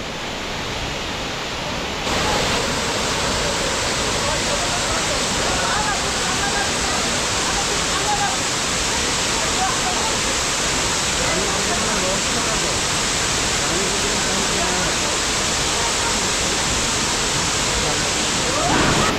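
Rani Duduma waterfall in Koraput, Odisha, roars with a loud, dense and unbroken rush of falling water that fills the whole scene.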